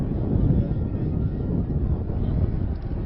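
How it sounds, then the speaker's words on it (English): Wind gusting across an outdoor football stadium during an FXFL game between Hudson Valley Fort and Brooklyn Bolts, a steady low broadband roar buffeting the microphone throughout with no clear pauses. "Wind's starting to pick up"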